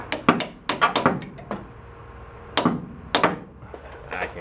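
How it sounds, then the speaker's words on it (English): Sharp metallic taps from a lightweight hammer striking the housing of a VW bus gear reduction box, about six or seven close, irregular blows in two clusters with quiet gaps between. "We'll try with the lightweight hammer first and see if that does it for us."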